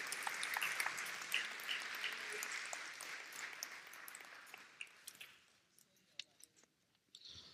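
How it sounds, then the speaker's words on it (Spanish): A church congregation applauds during a sermon, with loud, dense clapping that gradually thins into scattered claps and fades toward the end. "Si va a aplaudir"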